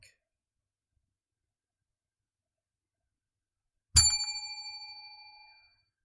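A single bell strike rings out after long silence, loud and close, with a bright metallic tone that decays over about two seconds.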